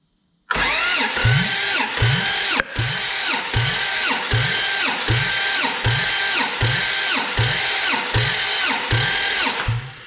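An 80 Series Land Cruiser engine cranks on the starter during a compression test, a loud, close, steady rhythmic churning of about two compression pulses per second that runs without a break for nearly ten seconds, with no voices.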